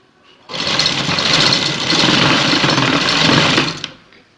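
A sewing machine stitches lace onto a cutwork neckline in one steady, loud, close whirring run of about three and a half seconds, starting and stopping abruptly, with no talking.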